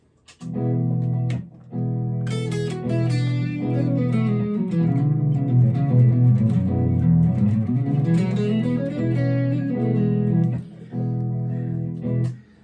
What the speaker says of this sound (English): what you were hearing was playing E as a five chord